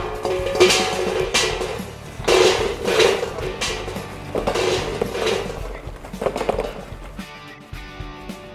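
Charcoal briquettes go into the charcoal bowl at the bottom of a smoker used for a Thanksgiving turkey, several loud close bursts of rattling, clattering lumps tumbling against metal, with no speech.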